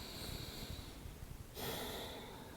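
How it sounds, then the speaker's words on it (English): A deep breath drawn and released in a yoga pose, close and audible, with a sharp inhale midway and no speech. "taking a couple of really deep breaths here"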